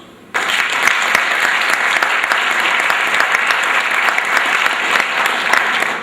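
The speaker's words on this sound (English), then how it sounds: "I'd like to give them a big round of applause" A crowd at a high school spring sports awards ceremony gives the girls' sports team a big round of applause, starting abruptly and staying loud, dense and sustained to the end.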